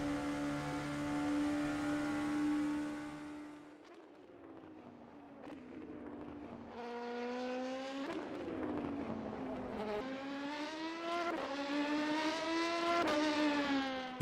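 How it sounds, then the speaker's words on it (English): Race car engine in rFactor 2, a 600-horsepower car with a top speed near 330 km/h, held at a steady high drone and then revving up and down through several gear changes, loud and close throughout. "engine with 600 horsepower and a top speed of about 330 kilometers. Probably my favorite out of the three cars. This is a great one to drive, sounds good"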